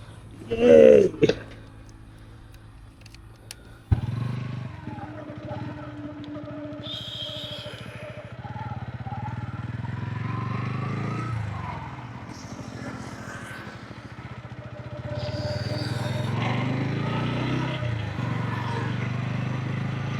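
A TVS Ronin motorcycle on a day ride, its engine a low steady drone under wind rumble throughout, with someone talking over it for much of the time.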